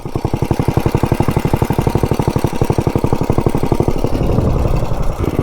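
A big block minibike engine fitted with performance parts runs hard and steady, its loud, rapid chugging pulse close and continuous throughout with no voices.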